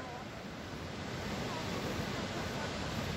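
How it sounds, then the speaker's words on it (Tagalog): A small waterfall beside the Golden Skybridge in Golden, British Columbia, gives a steady broadband rush of falling water with wind noise across the microphone, continuous and even throughout. "Yan ang maliit na falls sa gilid."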